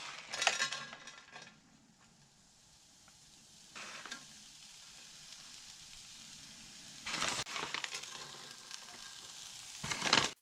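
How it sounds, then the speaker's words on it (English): Cheese sizzles on a hot skillet while cheese hats are made for burgers, a steady close frying hiss with louder bursts of sizzle and a few clinks of a utensil against the pan. "Turn that skillet up. Yeah, I'm making cheese hats."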